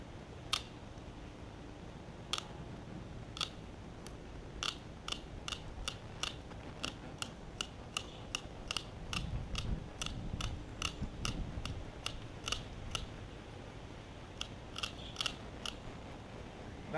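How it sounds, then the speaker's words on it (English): Tin snips cutting down the spine of a gar fish, a steady series of sharp, close snipping clicks spaced about half a second apart, with brief pauses, over faint background rumble. "A pair of utility snips, tin snips. Go right down the spine."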